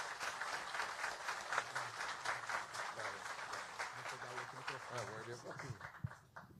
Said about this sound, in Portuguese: recebemos salva de palmas